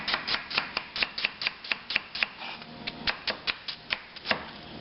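Mushrooms cut with a knife on a board, a brisk, regular series of close crisp chops, about four per second, briefly interrupted midway.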